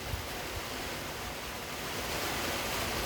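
Brief heavy rain shower from a passing cold front on a road, a steady dense hiss of falling rain throughout, loud and close with no voices.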